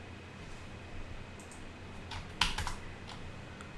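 Light computer keyboard typing, a short run of soft, close key taps with a slightly sharper cluster near the end, over quiet room noise with no talking.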